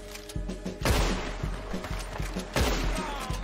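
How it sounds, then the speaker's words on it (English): Repeated in-game gunfire in Red Dead Redemption 2 Online: a dense fusillade of close, loud shots and thuds in rapid irregular bursts, with two heavier blasts standing out. "Stop shooting at me."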